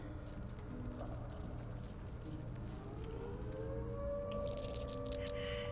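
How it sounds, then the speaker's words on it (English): A rising, wailing siren swells in the Baldur's Gate 3 video game, climbing in pitch over a dense, rumbling background before a bright burst of noise near the end. "I don't know if you can hear the siren."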